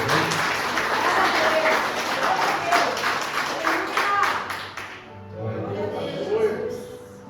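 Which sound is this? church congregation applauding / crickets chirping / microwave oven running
church congregation applauding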